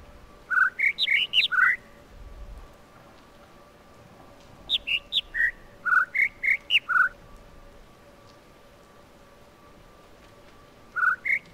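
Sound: bird song in the video game The Witness

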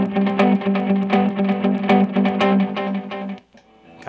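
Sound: electric guitar with reverb and delay effects

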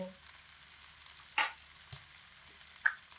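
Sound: vegetable potatoes sizzling while frying in pan

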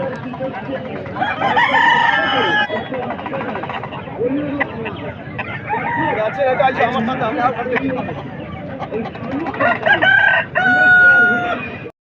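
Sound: chickens clucking and rooster crowing

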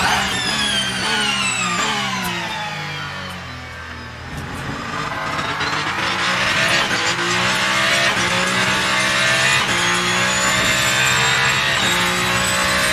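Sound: race car engine and tires in a racing video game

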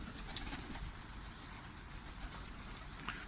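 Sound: pigeons cooing

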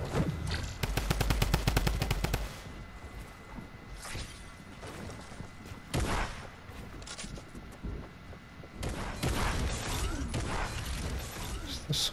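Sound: gunfire from a video game

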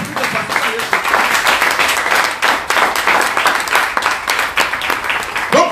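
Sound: church congregation applauding

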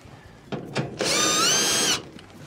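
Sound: power drill removing screws from dryer blower housing

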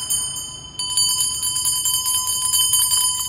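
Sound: Tibetan hand bells being shaken

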